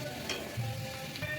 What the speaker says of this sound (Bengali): এর জন্য একটু আমি কড়া কড়া করেই ভাজছি, একটু লাল লাল করে